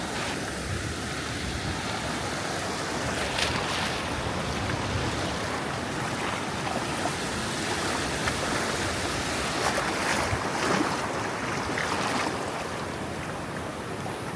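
Ocean waves break steadily along a beach in Costa Rica, a broad continuous wash of surf with swells rising and falling over wind buffeting the microphone; no one speaks.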